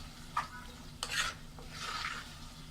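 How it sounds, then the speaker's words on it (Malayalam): Tomatoes being stirred into chicken and green peas curry masala frying in a pan, with a few scraping stirs and a soft, steady sizzle underneath. "ഇപ്പോൾ തക്കാളി എല്ലാം ചേർത്തു നല്ലപോലെ ഒന്ന് മിക്സ് ചെയ്യാം"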